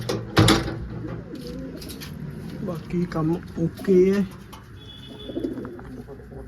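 Pigeons coo softly in the background while a person talks over them, with a brief knock near the start.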